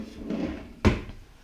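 A kitchen cutlery drawer slides and bumps shut, a soft rolling rub followed by a single dull knock, close and alone.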